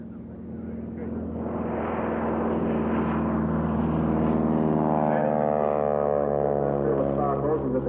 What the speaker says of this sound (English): And the BT-13 takeoff roll.